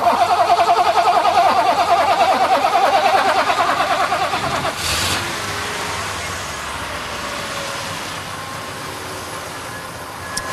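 An old car left unused for years being started: the starter cranks loudly and rhythmically for several seconds, then the engine catches and settles into a steady idle.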